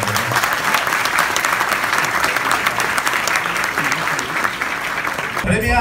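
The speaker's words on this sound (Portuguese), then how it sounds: "Queria pedir a salva de palmas de todos vocês para essa comunidade." A crowd at a digital influencer awards ceremony applauds for nearly six seconds, loud and dense clapping that holds steady before cutting off abruptly at the end.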